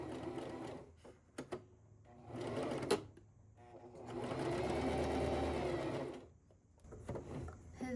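A sewing machine stitches a seam in fabric with a universal needle, running in bursts of fast mechanical whirring and tapping with short pauses and clicks between them, close to the listener.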